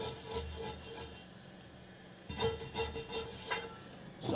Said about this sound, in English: So I'm gonna scrub this some more.